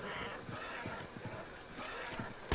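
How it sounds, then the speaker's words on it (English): Horse hooves clop in a steady run in Red Dead Redemption 2, with a brief whinny near the end, heard mid-distance over continuous game ambience. "Yo, horse."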